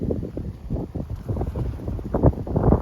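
Strong evening wind gusts buffet an unshielded microphone outdoors in rough, uneven bursts, loud and close, with no voices.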